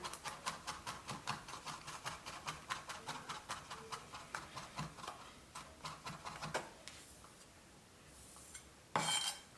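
A knife rapidly minces vegetables on a cutting board for a stuffed pepper filling, producing a steady run of close, crisp chopping taps that slow and thin out toward the end, capped by a final louder clatter.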